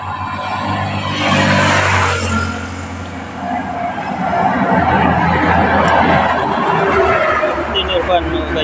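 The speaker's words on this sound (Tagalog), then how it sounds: "May motor at saka malaking dump truck" A motorcycle and a large dump truck pass along a road, their loud engine roar and rumble swelling and easing as they go by close to the listener.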